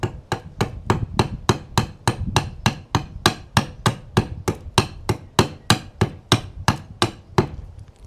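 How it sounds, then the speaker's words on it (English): A TRM Red Line fixed-blade camp knife chops notches into a very hard piece of wood, giving about twenty-two sharp, evenly spaced knocks in a steady quick rhythm, close and alone. "I'm cutting some notches out of it, and this knife is really making easy work out of it."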